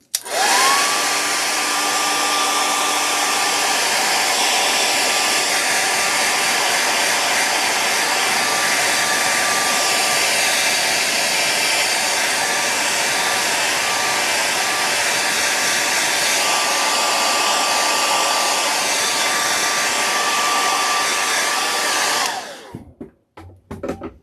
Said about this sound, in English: Hit it with the hairdryer, and we'll come back in for another layer